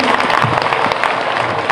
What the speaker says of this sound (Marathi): सर्वांनी त्याचं टाळ्या वाजवून स्वागत करावं.